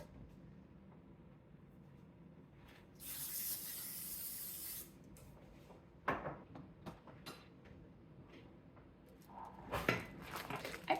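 Cooking spray hisses onto a 9x13 baking dish in one steady burst of about two seconds, loud and close, with no talk over it and a few clinks and handling knocks following.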